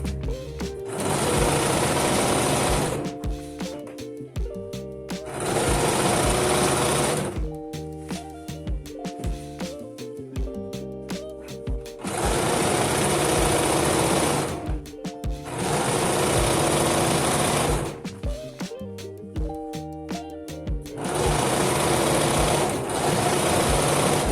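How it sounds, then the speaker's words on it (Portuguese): A sewing machine runs in four long, loud bursts of steady stitching as it sews a narrow French seam on a dress, with brief pauses and handling clatter between the runs and no talking. "Vou passar uma costura. Vou fazer uma costura francesa."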